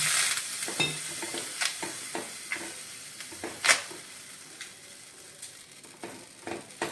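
Water sizzles and crackles on a bajra bhakri flatbread laid on a hot tawa, with sharp close pops and hissing bursts in an irregular rhythm, no talk.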